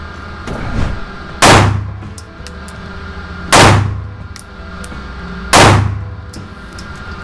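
Three loud, sharp pistol shots ring out about two seconds apart as a pistol red dot sight is zeroed, each crack followed by a brief ringing tail, with no talking between them.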